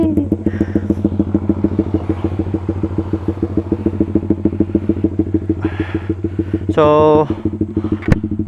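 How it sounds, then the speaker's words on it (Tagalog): Honda CBR150R fitted with an SC Project open-pipe muffler, no silencer, idling with a loud, steady rapid burble close by, a brief rev swelling near the end and someone speaking over it. "kasi pag naglagay tayo ng SC Project tapos walang silencer, technically open pipe na siya, no? So for the last time, sound check natin."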